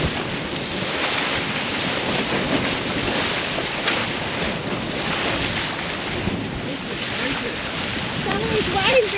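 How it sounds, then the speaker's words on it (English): Heavy ocean waves and strong wind roar steadily while sailing off north Queensland, with wind buffeting the microphone throughout. "Some of these waves are huge."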